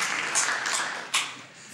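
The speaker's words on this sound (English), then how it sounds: "let's give Bwana Kokonya another round of applause" Audience applause for a speaker at a training session, light and fairly faint scattered clapping with a few sharper individual claps, fading over under two seconds.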